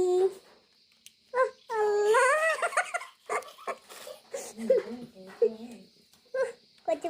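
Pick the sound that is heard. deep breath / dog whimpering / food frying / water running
dog whimpering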